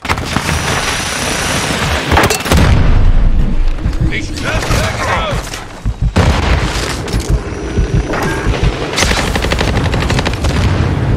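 Flashbang grenade going off in Call of Duty: Modern Warfare 2, a loud boom among bursts of gunfire and heavy game noise, with a voice heard briefly.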